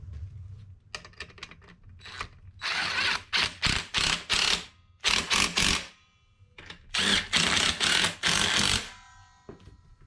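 A ratchet snugs down seat track bolts inside a Ford truck cab during a 7.3 Powerstroke swap, giving repeated bursts of rapid close clicking in several separate runs, loud and free of talk.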